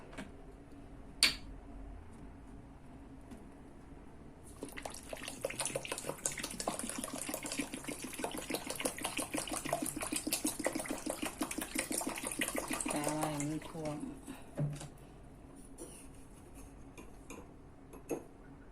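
Water poured into a pot of cherries with sugar on the stove, a steady splashing gush of about nine seconds after a quiet start, then tapering off into faint clinks.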